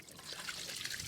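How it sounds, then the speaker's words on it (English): Water trickles and splashes from the strainer housing of a water filter on an Eagle 200 jetter while the strainer is removed. It is a faint, steady dribble heard alone. "it's going to spill water out here as I do it"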